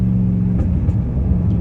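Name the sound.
catless straight-piped Hellcat Redeye exhaust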